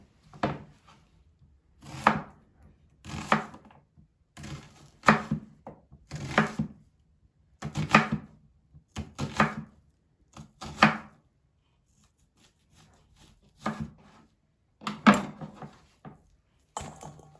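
Knife chopping onion on a board, bursts of rapid sharp taps grouped in short runs with brief pauses between, close and crisp with no talking.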